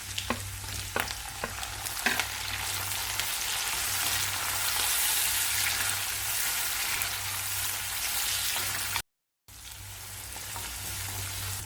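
Tomato sautés with onion, curry leaves and fennel seed in a pan, producing a steady, even sizzle with a few early crackles and a brief silent break near the end.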